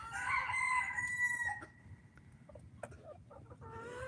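A rooster crows up close among chickens pecking at leftover Thanksgiving turkey, one long drawn-out call followed by quieter clucks and a brief second vocalization over a low background rumble.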